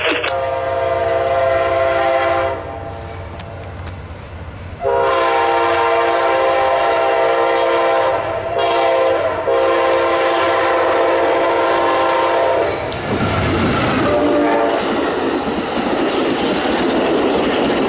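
An Amtrak P030 passenger train passes close by, its loud horn blasting in long sustained tones over the rumble and clatter of wheels on the rails.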